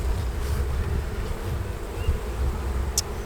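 Honey bees buzz steadily around an open hive frame, a dense low droning hum that holds at moderate loudness throughout, with one brief sharp sound near the end.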